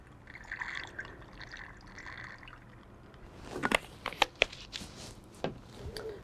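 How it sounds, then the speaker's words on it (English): Liquid solution poured in a chemistry lab: after a quiet stretch, a few soft splashes and drips come close together, with small clinks and a brief trickle, fairly faint and with no talking. "And I'm just going to pour a little bit in."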